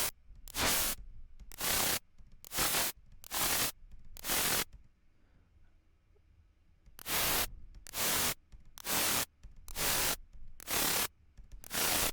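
Synth white noise is gated on and off in a fast steady pulse by a triangle LFO on volume, a run of hissing bursts that pauses for a couple of seconds and then resumes.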